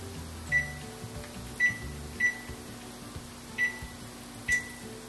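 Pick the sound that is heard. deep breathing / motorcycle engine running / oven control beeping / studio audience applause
oven control beeping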